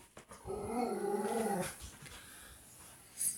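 An old, somewhat senile dog growls and whimpers close by in a quiet country home, a run of low whining growls for about a second, then fading to near silence.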